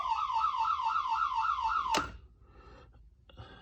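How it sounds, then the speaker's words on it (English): A loud high-water bilge alarm on a boat, triggered by a float switch, warbles continuously in a rapid rising-and-falling tone, then cuts off abruptly with a click, leaving quiet background. "a float switch that's a sensor for a bilge alarm, high water bilge alarm"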